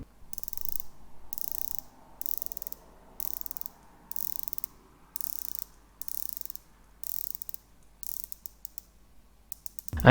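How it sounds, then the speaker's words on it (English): A Rolex Submariner 124060 ceramic bezel is turned in short bursts of crisp, fine ratcheting clicks, about ten quick runs separated by brief pauses, very close and quiet with no talk. "And it's got a 120 click on the bezel as opposed to the 60 clicks on my Black Bay Bronze."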